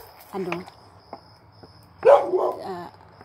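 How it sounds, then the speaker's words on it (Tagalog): A dog gives two short bursts of barks, close by, separated by a quiet pause, with a faint steady hum in the background. "Yung aso namin si Lilom"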